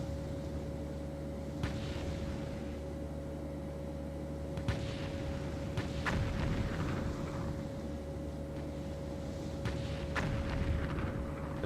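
The Japanese cruiser Kuma returns fire in the naval game Destroyer Command, heard as a handful of faint, distant, muffled gun thuds spaced irregularly over a constant low engine drone.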